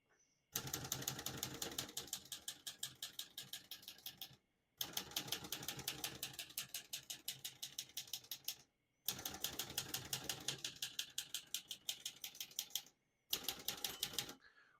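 Rapid, steady keystrokes of a 1965 Olivetti Lettera 32 manual portable typewriter, close and crisp, in three long runs separated by short silences, with no voices.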